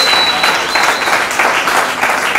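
Loud, close applause from a church congregation, rapid dense clapping in uneven bursts that keeps going throughout.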